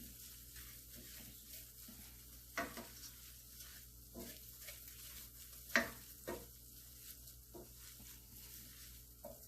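Flour roux for Creole mac and cheese cooks in a pan, a soft continuous sizzle broken by scattered scrapes and taps of a spoon against the pan, quiet and close, no voices.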